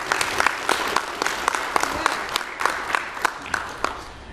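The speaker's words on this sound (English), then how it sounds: "Let's give Jason a big round of applause" An audience at a talk gives a round of applause, dense sustained clapping from many hands, close and steady throughout.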